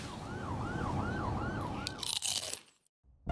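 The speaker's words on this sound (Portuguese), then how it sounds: "Barulho de sirene." A wailing siren sound effect rises and falls in regular sweeping cycles, loud and close, before breaking into a burst of harsh crunching noise that cuts off abruptly into near silence.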